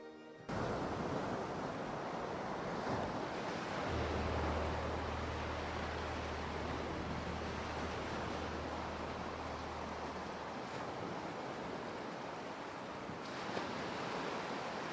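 Big ocean waves breaking, a continuous heavy roar of surf with a deep rumbling swell in the middle and wind blowing across the microphone.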